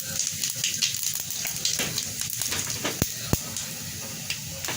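Cumin seeds sizzle in two spoons of hot oil for potato bhujia, a soft steady hiss dotted with small crackles and a couple of sharper pops, fairly quiet and close.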